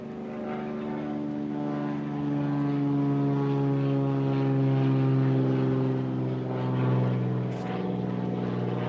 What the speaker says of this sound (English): you're gonna often hear aircraft overhead because it's very close to an executive airport